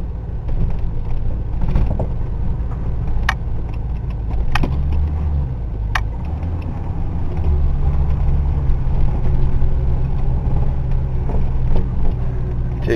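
A Ford LTD's engine idles while warming up, a steady low rumble close by with a few sharp clicks and creaks over it, running evenly without stalling.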